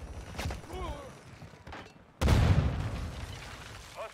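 A frag grenade goes off in a Call of Duty multiplayer match: a sudden loud, close boom with a rumbling low tail, following softer gunfire and game voice chatter.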